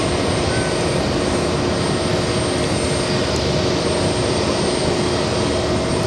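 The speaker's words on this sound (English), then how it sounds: "Lufthansa super. A380 taxiing, heading back to Munich" A Lufthansa Airbus A380 taxis at JFK airport, bound for Munich, producing a loud, steady jet-engine roar and whine that holds unchanged throughout.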